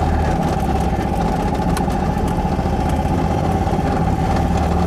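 The Trojan 200 Heinkel Kabine bubblecar's small four-stroke engine runs steadily and loudly close by on a campsite, a buzzy continuous drone with a fast rattly pulse and no talk.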